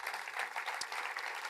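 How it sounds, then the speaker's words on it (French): A seated audience at a talk claps for a speaker, a faint but continuous patter of many hands, heard from a distance. "Applaudissements pour Jean-Luc Perrault."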